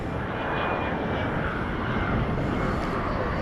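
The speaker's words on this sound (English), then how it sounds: "the answer is Flight 1602 to Denver, Airbus A319" A 24-year-old Airbus A319 departs Dallas/Fort Worth Airport at night as Flight 1602 to Denver, its jet engines making a steady, loud, broadband roar that holds constant without a break.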